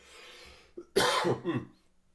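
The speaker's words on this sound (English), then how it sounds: "Sorry, I'm going to cough here." A couple of harsh coughs ring out close by, a short burst then a second rougher one, preceded by a brief throat noise against quiet background.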